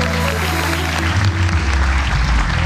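Studio audience applause on a Turkish TV game show, dense clapping under a loud low musical hum or band tones, continuous and close.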